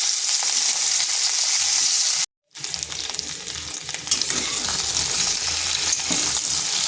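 Tomatoes and green chillies fry with cauliflower in a hot pan, giving a loud, steady sizzle that cuts out briefly for a moment, then continues.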